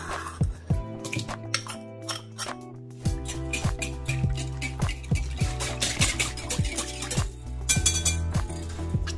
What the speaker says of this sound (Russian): Смешиваю до однородного состояния.